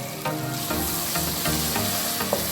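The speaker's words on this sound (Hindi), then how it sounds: "2 अदद टमाटर डालेंगे।" Tomatoes tossed into a pot of chicken korma masala, frying with a steady close sizzle and occasional stirring scrapes, with no voices over it.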